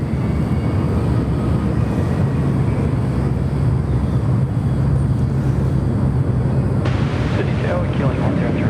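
A jet airliner inbound from Manila lands on the right-hand runway at Sydney Airport, giving a loud, steady broadband roar with a low drone throughout and a shift in the engine noise near the end.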